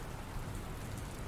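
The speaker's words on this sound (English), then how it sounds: "I don't think it's supposed to still be raining, but you know." Steady rain falls in the indie game Dr. Langeskov, The Tiger, and The Terribly Cursed Emerald, an even, dense hiss of drops with no pauses or other sounds throughout.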